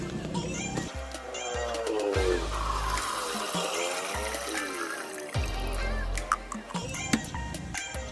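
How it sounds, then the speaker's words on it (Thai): Two liters of water poured through a filter into a watering can, a steady trickling, splashing stream with a few pauses and drips, heard up close. "ผมกรองน้ำสองลิตรนี้ลงในบัวเนี่ยครับ"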